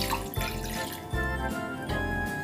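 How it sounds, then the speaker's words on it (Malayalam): Two cups of water poured into a pan for making corn rava kesari: a close splashing, gurgling pour in a few surges, with pitch rising as the pan fills and no talking. "ഇതിലേക്ക് 2 കപ്പ് വെള്ളം ഒഴിച്ചു കൊടുക്കാം."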